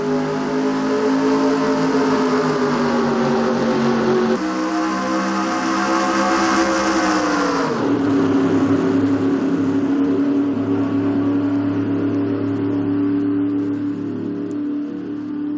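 A pack of NASCAR stock cars roaring off at the start of the Daytona 500 in a racing video game, a loud steady engine drone that rises in pitch, drops sharply, then holds a constant howl.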